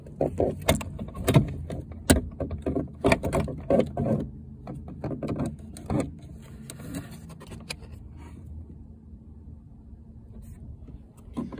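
A door panel on a Peugeot 207 is pressed back onto the door, making a quick run of sharp plastic clicks and knocks over the first half. Quieter handling noise follows, with no speech.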